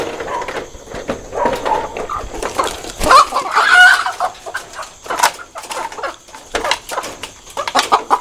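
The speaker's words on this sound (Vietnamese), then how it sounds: "Gà khốn nạn muốn bay ra." A chicken clucks loudly and agitatedly, close by and alone in a kitchen setting, with wing flaps and scuffling as it tries to fly out, the clucks coming in irregular bursts throughout.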